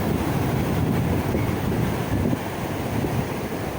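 Rough sea waves roll in at a beach in Pangasinan in stormy weather, a loud continuous broadband roar of surf mixed with gusting wind buffeting the microphone, with no voices.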